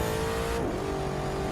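A hypercar in The Crew 2 video game drives with a loud, steady engine drone and a pitch that shifts partway through, with no voices over it.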